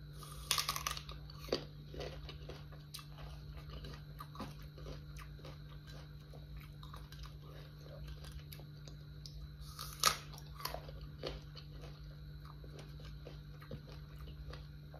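Someone eats a small, crunchy apple dipped in chili salt, heard as quiet, close bites and crunchy chewing with a few sharper crunches over a steady low hum.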